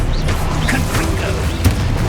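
Blasting-spell explosions boom through a dense Hogwarts Legacy combat mix, with a sharper burst standing out near the end over continuous loud action sound.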